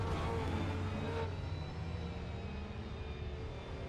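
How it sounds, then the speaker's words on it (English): Aston Martin V12 race car heard on board during a six-hour Nordschleife endurance race, a steady loud engine drone with dense low rumble and high whine that holds level throughout, with no talk. "You can hear the sound of that engine."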